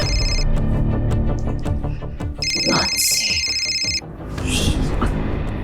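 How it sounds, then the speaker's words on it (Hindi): A phone rings with a repeating electronic tone, loud and near, over a busy mix of background sound and voices. "मानसी कॉल कर रही है"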